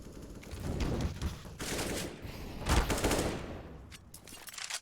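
Gunfire from a professional Counter-Strike match on Dust2 comes in dense rifle bursts and sprays, loud and near, with brief pauses between flurries and a fading tail.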